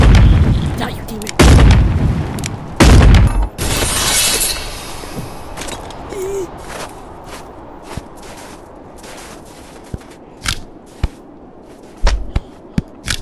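In the VR game Animal Company, heavy shotgun blasts go off in a few loud, widely spaced booms early on, followed by quieter scattered sharp clicks and knocks.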